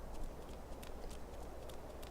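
A horse gallops in Skyrim, leaving Windhelm Stables: a steady run of soft, fairly faint hoofbeats with a muffled outdoor background and no talk.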